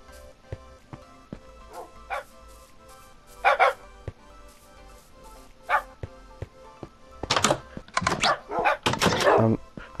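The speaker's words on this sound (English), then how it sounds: "I've moved on my dogs and they're quite noisy." Dogs in the Minecraft video game bark in scattered single yips at first, then in a dense, loud cluster of overlapping barks toward the end.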